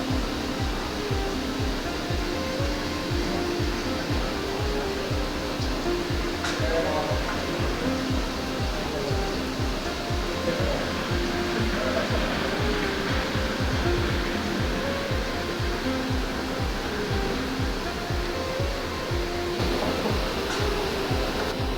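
A CNC machine drills a dimple with coolant flowing, a steady rushing spray over fast rhythmic chattering from the tool, continuous and moderately loud throughout, with no talk.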